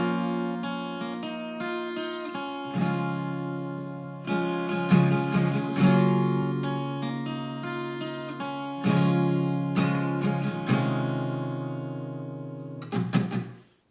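Acoustic guitar plays the second part of the intro, strummed chords in steady phrases with brief pauses between them, clear and close, no voice.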